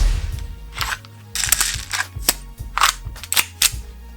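An SRC SR-33 Tokarev TT-33 airsoft pistol firing: a string of about six sharp, loud snapping shots at an uneven pace, each with a short mechanical clack, close and without speech.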